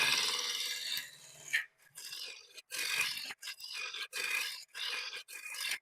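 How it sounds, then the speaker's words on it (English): A tool cuts birch turning on a wood lathe, making close, loud rasping scrapes in repeated bursts separated by short silences. "By the way, I am turning birch here."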